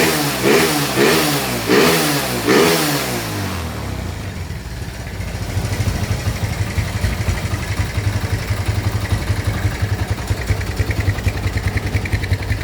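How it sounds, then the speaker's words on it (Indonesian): A motorcycle engine, freshly repaired after camshaft work, is blipped in four quick rising revs close by, then settles into a steady, even idle with a rapid rhythmic chuff. "Coba kita geber."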